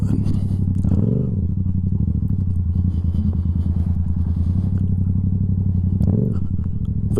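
Motorcycle engine idling and rolling slowly over loose gravel, a loud steady close rumble with crunching and scraping underneath, swelling briefly at the start and near the end.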